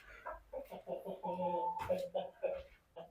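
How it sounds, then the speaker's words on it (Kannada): Chickens on a small farm cluck close by in short, irregular calls that run one into the next, fairly quiet overall. "ಹಾಗೆ ಸ್ವಲ್ಪ ನಮ್ಮ ಕೋಳಿಗಳನ್ನ ನೋಡ್ಬಿಡೋಣ್ರಿ"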